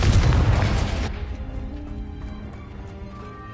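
A loud Confringo spell blast in Hogwarts Legacy, a heavy booming burst that cuts off after about a second and leaves a low rumbling tail fading under quiet background music.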